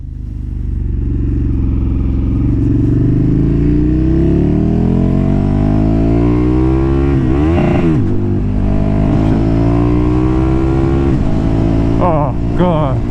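A KTM 1290 Super Duke R motorcycle roars loud and close while riding, its engine revving and rising in pitch through gear changes with a quick shifter and auto blipper, with brief exclamations near the end.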